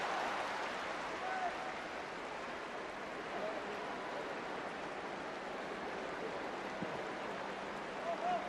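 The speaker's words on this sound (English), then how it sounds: "you can hear the applause around the Emirates Stadium" Steady crowd applause fills Emirates Stadium at a women's football match between Arsenal and Manchester City, a continuous broad wash of clapping at even level throughout, without a break.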